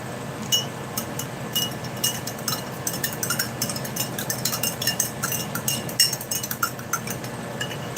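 A spoon clinks against the container as an MRE fruit punch drink is stirred, giving steady light tapping and rattling over continuous background noise, close by and with no speech.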